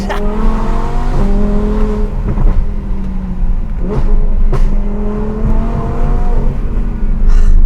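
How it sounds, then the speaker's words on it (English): An Audi R8 V10 Plus with a center exit exhaust roars and revs loudly nearby, its exhaust popping and crackling sharply between throttle blips. "center exit exhaust, it sounds absolutely glorious"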